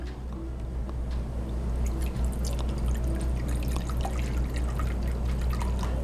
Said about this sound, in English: Put the vinegar into the bowl right here.